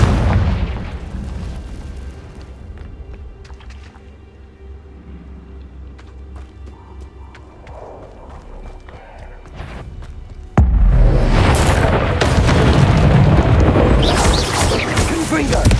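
Spell blasts go off in a Hogwarts Legacy game fight, a quieter stretch of thuds giving way to a sudden loud booming explosion that roars on, with a voice calling out a spell over it.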